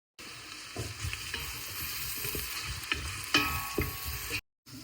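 Small-chopped onions sautéing in oil for chicken biryani, a steady soft sizzle with occasional stirring scrapes and taps against the pan, fairly quiet and close.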